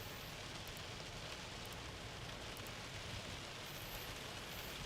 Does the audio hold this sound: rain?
yes